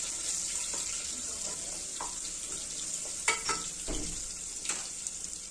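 Ginger garlic paste sizzles in hot oil in a pan while being stirred, a steady bright frying hiss broken by a few clinks and scrapes of the spoon, close by with no talking.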